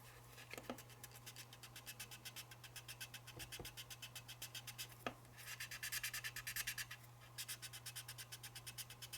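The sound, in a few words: sanding a model locomotive nose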